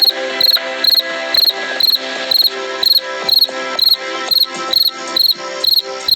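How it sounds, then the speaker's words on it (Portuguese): A recording of a cricket plays back with loud, regular chirp pulses repeating steadily, each a quick bright trill over a sustained tonal bed that carries through the whole stretch. "Deixa eu colocar aqui, olha o grilo."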